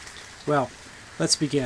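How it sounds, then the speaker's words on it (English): Rain falls steadily outside on a chilly evening, a soft static-like hiss running constantly beneath a voice that speaks briefly over it. "I suspect you can probably hear the rain falling in the background."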